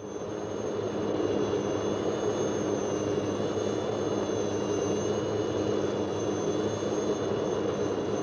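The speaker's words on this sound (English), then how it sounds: "the helicopter goes on to complete its mission, the resupply of an existing fort." A military helicopter on a resupply run to a jungle fort near the Indonesian border during the 1962–1966 confrontation, its turbine engine a steady, loud, close roar with a thin high whine running throughout.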